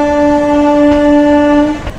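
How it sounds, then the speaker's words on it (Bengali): A train horn blows loud and sustained, a rich harmonic blast held for nearly two seconds before cutting off, as the train pulls out of Madhupur Junction. "ট্রেন মধুপুর জাংশন ছেড়ে দিল।"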